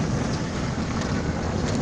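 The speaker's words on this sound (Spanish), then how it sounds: "Este jodido sonido del agua no me deja coser" Loud, steady rush of water outdoors in nature, a constant wash of broadband noise with wind buffeting the microphone, and no voices.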